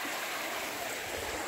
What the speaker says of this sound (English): as the water flows